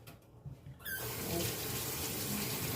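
A kitchen tap is turned on partway through and runs in a steady, close, full stream as hands are washed while making tamarind juice.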